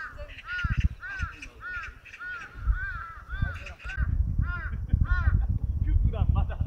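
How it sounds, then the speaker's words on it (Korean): Crows caw in repeated, loud bursts across a golf course, some calls overlapping and carrying from different distances, while people talk over them. "막 까마귀가 계속 불어"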